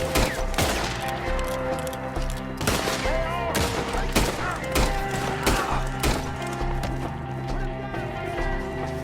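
Dense gunfire in a Red Dead Redemption 2 shootout, with repeated loud shots and volleys cracking over a busy game soundscape, while characters shout over the fighting.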